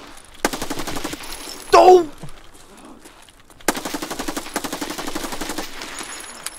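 Rapid automatic gunfire in a video game shootout, two long bursts of dense rattling shots separated by a short gap and a brief sharp blast, loud and close.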